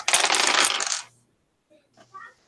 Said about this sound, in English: I get to roll dice today.